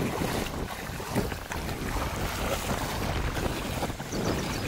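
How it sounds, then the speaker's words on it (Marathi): A strong wind blows in during monsoon rain outdoors, buffeting the microphone with a steady, loud, rumbling roar and gusts throughout, with no talking. "वारा आलाय जोरात."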